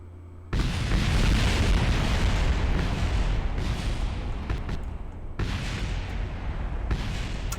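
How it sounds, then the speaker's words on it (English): A craft explodes in Kerbal Space Program: after a quiet hum, a sudden heavy blast erupts into a loud, continuous roaring rumble, with fresh bursts punching through as the noise slowly thins. "This should explode right here."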